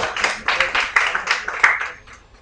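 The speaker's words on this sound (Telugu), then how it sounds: "క్లాప్స్ అండి" An audience claps at a birthday celebration: a dense, steady burst of many hands close by that thins and fades over the final moments.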